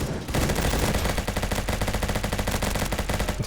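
An HK416 rifle chambered in 9 mm fires in the video game Bad Business: a loud, continuous burst of rapid automatic gunfire with evenly spaced shots and no pauses.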